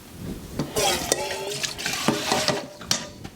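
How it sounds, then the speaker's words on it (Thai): Thick, sticky mixture of white krachai, honey and lime being stirred in a pan, with soft wet scraping and sloshing strokes up close, and quiet speech underneath. "อันนี้เราก็กวนไปเรื่อยๆนะคะ"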